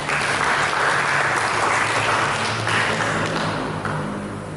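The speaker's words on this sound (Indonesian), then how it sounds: "Berikan tepuk tangan bagi kita." Loud, sustained applause from a large church congregation at a Sunday service, a thick continuous roar of clapping that holds steady and eases off slightly at the close.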